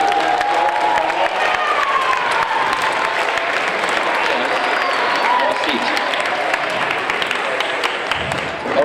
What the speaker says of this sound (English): Let's give these actors a round of applause.